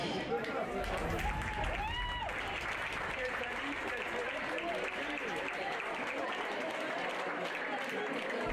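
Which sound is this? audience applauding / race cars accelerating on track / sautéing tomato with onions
audience applauding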